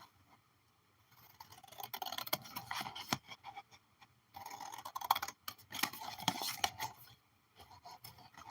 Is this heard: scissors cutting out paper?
yes